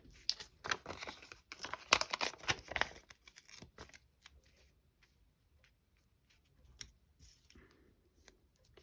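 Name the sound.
scissors cutting paper for a card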